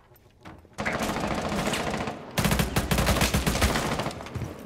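Rapid automatic gunfire in Rainbow Six Siege, with sustained bursts of sharp shots fired in quick succession, loud and continuous, a short pause, then a second heavier stretch of sustained fire.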